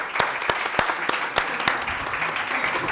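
Applause from a conference audience welcoming a winery co-owner, a steady crowd clapping with a few sharp louder claps standing out, continuous and fairly close for the whole stretch.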